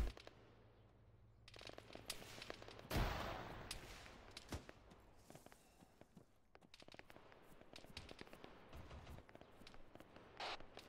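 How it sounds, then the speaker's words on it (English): Distant and nearby gunfire in the Arma 3 military video game, a loud crack followed by scattered single shots and bursts over several seconds, mixed with footsteps and movement noise, with no talk. "I think we're under fire."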